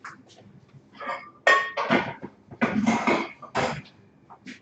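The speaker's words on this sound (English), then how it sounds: "this is just a scan pan with a lid" A metal ScanPan with a lid set down on a small portable canister stove: several sharp clanks and clinks of cookware in quick succession, close and fairly loud, with no talking.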